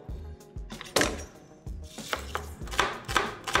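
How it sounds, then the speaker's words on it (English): A knife chopping red onion on a board, a handful of distinct thunks and cuts, close and moderately loud, with no talk. "It's a very sad thing, cutting onions."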